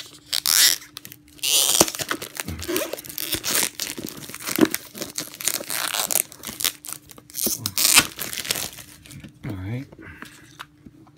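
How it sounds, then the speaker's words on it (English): Plastic shrink-wrap is crinkled and torn off a Shadow of War Mithril Collector's Edition box in loud, close bursts of ripping and crumpling, with a person talking in between. "Plastic off."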